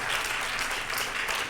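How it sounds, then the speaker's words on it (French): Audience applause at an engineering awards ceremony, a dense steady wash of many hands clapping, fairly faint and distant, with no voices over it. "on peut l'applaudir"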